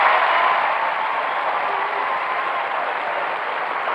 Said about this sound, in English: give him a big round of applause as he comes up for tonight's forfeit